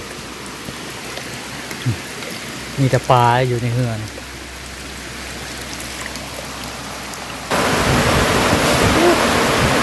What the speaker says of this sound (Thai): โอ้พายุเข้าโอ้ พายุเข้าเลยทุกคนเอ้ย ฝนตกล่มบาดเลย